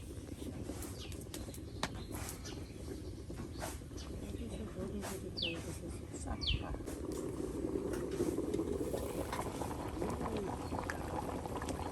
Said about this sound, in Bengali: নানি একদম বড় বড় ফুটা উঠতেছে।